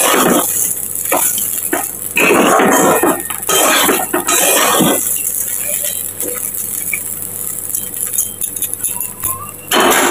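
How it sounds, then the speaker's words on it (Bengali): Ground coriander and other spices fry in a pan with a soft sizzle, while a utensil rattles and scrapes against the metal in loud bursts, close up. "এটা একটু ভাজা ভাজা হবে"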